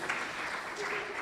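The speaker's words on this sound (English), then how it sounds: "Please, another round of applause for our chief guest" Conference audience giving a round of applause to chief guest Engineer Peter Tum at an employers' annual conference, a brief, soft burst of many hands clapping in a large room.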